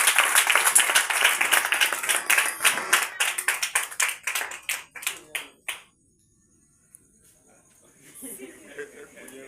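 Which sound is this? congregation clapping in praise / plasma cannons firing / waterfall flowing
congregation clapping in praise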